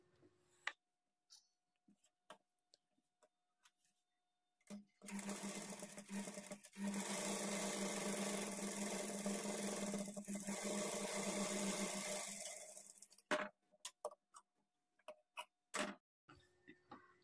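A sewing machine stitches folded blouse sleeves in one sustained burst of about eight seconds, framed by scattered clicks and handling taps before and after in a quiet room.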